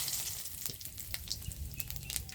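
Bay leaves and cumin seeds crackle in very hot oil in a kadai, a steady close sizzle with scattered sharp pops, no voices.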